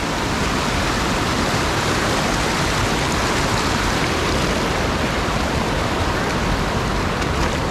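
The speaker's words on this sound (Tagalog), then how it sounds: "Lakas ang agos." Strong river current rushing steadily, a loud dense broadband roar of flowing water close by, constant throughout with no speech.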